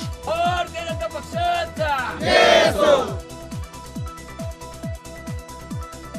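Supporters at an election victory celebration for Subhash Deshmukh in Solapur let out loud collective shouts over rhythmic, booming drum beats.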